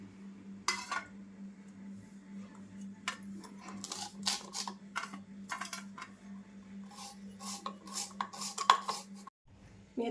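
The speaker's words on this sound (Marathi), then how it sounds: "आता मी त्यासाठी दोन कांदे आणि या चार हिरव्या मिरच्या घेतल्यात त्या पण असं बारीक बारीक कापून घेते" Knife chops onions and green chillies finely on a board, with quick irregular bursts of taps that grow denser toward the end, close by over a steady low hum, with no speech.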